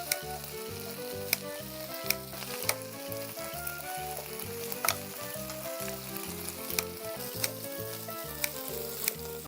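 LA galbi marinated beef short ribs sizzle in a pan, a continuous bubbling crackle with sharp pops and ticks scattered through it, heard up close with no talking.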